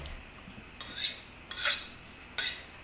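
A knife cuts raw chicken in half on a hard surface: three separate scraping, slicing strokes, each a sharp bright rasp about a second long, close by in a quiet kitchen with no talk.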